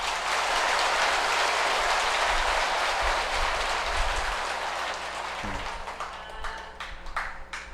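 Audience applause at a dharma service at Tongdosa temple, a dense sustained wash of clapping that thins out toward the end into a few separate claps.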